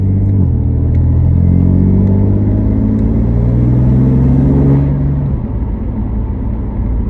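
A race car's engine idles and rumbles steadily close by, a loud low drone with a slight dip in pitch near the five-second mark as it settles.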